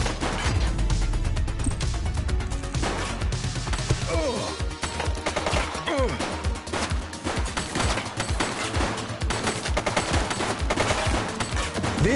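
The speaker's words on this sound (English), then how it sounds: "He's shooting!" Gunfire in the police game The Precinct: a dense run of sharp shots and rapid bursts cracking close by, with impacts and crashes mixed in, continuing throughout.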